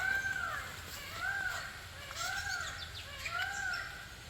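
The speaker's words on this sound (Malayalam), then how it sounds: "ആ ഭാഗത്തുനിന്ന് എവിടുന്നോ മയിലിൻ്റെ സൗണ്ട് കേൾക്കുന്നുണ്ട്" A peacock calls from somewhere across open fields, four repeated rising-falling cries at a steady rhythm, faint and distant over soft outdoor ambience.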